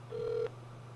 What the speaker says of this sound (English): I'm going to leave a call on the voicemail of Chad's home phone.